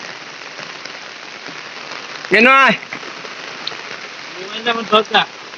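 Steady rain patters on surfaces around a cattle shed, a constant close hiss of drops, while a person briefly speaks and other voices are heard near the end.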